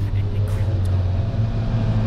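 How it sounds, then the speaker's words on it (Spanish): Four-cylinder Yamaha motorcycle engine running close by, a steady loud low drone with strong harmonics held throughout the short stretch, with no clear rise in revs. "Cuatro cilindros Yamaha."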